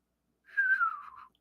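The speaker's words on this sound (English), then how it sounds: "Well, I can whistle," One person whistling a single short note that slides gently downward, clear and close, alone.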